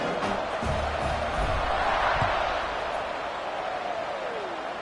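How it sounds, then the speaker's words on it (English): Broad roar of a football stadium crowd cheering before a kickoff in a college game against UTEP, a sustained wash of voices swelling slightly and then easing. "this crowd now ready to get behind them"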